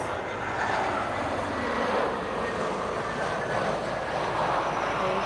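Brussels Airlines Airbus A320neo at Lisbon Airport, a steady, moderately distant jet engine roar holding evenly throughout, no voices.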